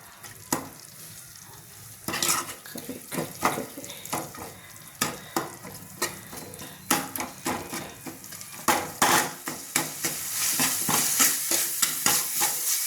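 Masala being stirred into a country chicken curry in a pot, a series of repeated scraping, clattering spoon strokes in an uneven rhythm over a soft background hiss.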